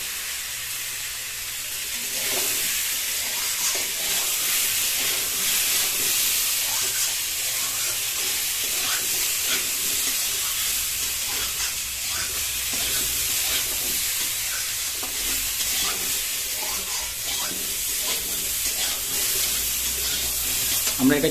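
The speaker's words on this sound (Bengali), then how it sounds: "আমরা এটাকে মোটামুটি 2-4 মিনিট আমরা ফ্রাই করে নেবো" Potatoes and carrots with cumin, salt and turmeric fry in a pan, a continuous close hiss and crackle of oil with stirring scrapes running steadily throughout.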